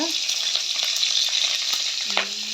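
Green chillies drop into hot oil already spluttering with mustard seeds, a loud, close, continuous sizzle with faint crackles and a brief stir knock near the end.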